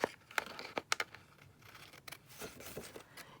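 Scissors snipping through craft paper while cutting out pocket pieces, a close series of crisp irregular snips with light paper rustle between cuts, quiet and alone.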